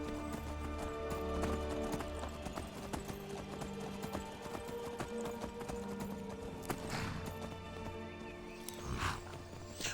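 A horse gallops in Skyrim with steady, loud clip-clop hoofbeats and a brief whinny along the way, over a layer of game music and ambience.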